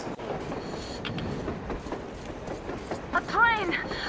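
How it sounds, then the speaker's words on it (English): A train rumbles past on the surface in the Metro Exodus game, a continuous low rolling clatter with a rising squeal near the end, mixed under voices talking over it. "A train! A damn train on the surface!"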